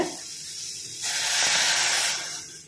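Water is poured into a cooking pot of small pineapple cubes for pineapple pachadi, a soft, steady splashing hiss lasting about a second, close by, with no talking.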